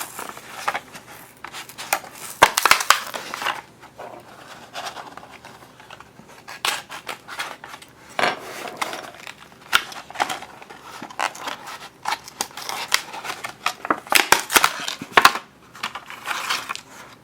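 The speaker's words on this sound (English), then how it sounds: "So the first thing we're going to do is open package." A plastic model kit package for railway relay boxes being opened, with crinkling wrapper, rustling plastic and scattered clicks of parts coming and going close by for several seconds.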